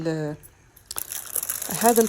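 Baking parchment paper is crumpled and handled while flour is toasted for sellou, giving a close, crisp burst of crinkling between stretches of someone talking.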